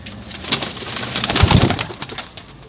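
Sakhi Teddy pigeons in a breeding setup give soft, low cooing calls close by, a few throaty bursts peaking in the middle, with no talking.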